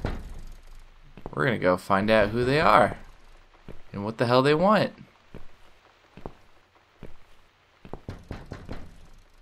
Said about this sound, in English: somebody is banging on our door once again